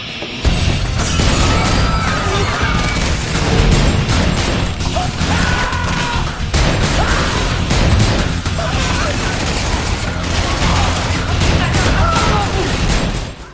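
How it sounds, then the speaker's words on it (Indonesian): Gunfire rips through a restaurant ceiling in an action film: a loud, dense fusillade of rapid shots mixed with crashing debris and bursts that runs nearly nonstop, with voices faintly underneath. "Charlie menembaki langit-langit restoran tersebut yang menyebabkan hujan kokain"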